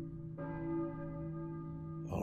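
A church bell in the Silent Hill video game strikes once and rings out with a long, sustained, humming tone, then a second strike begins just as the first fades; no voices.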